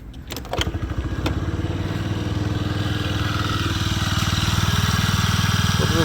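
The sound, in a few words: Honda Dio AF62 scooter engine running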